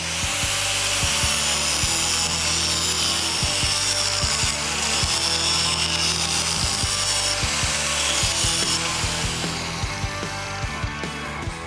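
A power tool grinding a double bevel into thick metal for a weld joint on a 1972 Mercury Marquis build, loud continuous abrasive whine with rhythmic pulsing strokes, close and alone.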